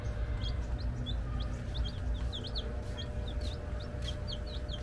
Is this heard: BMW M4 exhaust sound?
no